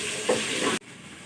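Chicken wings kadhai sizzles loudly in a pan while being stirred, a steady bright frying hiss with scraping strokes that cuts off abruptly.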